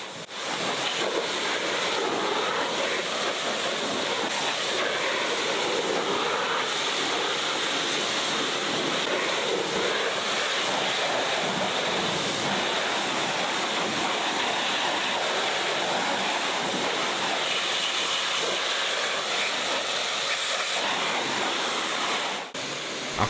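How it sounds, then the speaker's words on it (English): Water spray rinsing suds off a Land Rover Discovery Sport from roof down, a steady loud hissing wash that holds unbroken for over twenty seconds before cutting off at the end. "rinse the entire vehicle from the roof down to remove all of the soapy suds from the car shampoo"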